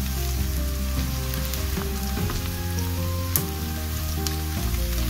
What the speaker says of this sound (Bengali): এই যে আমার অনিয়ন গুলো একটু ভাজা ভাজা হয়ে আসছে,